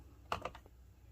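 A brief burst of four or five quick keystrokes on an Alpha Freewrite keyboard, soft and close, over a faint steady room hiss with no talking.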